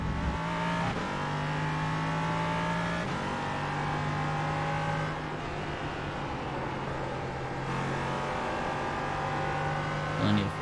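Ligier LMP3 race car in the iRacing game at Road America, its engine droning steadily with repeated shifts and a low, clacking limiter-like stutter as traction control cuts in, loud and continuous.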